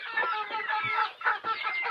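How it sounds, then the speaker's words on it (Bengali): Healthy native desi chickens on a Bangladeshi farm cluck steadily and close by, with overlapping bursts from several hens and a few louder calls and no talking. "আর এদিকে আল্লাহর রহমতে আমার মুরগিগুলো খুব সুন্দর আছে, সুস্থ আছে"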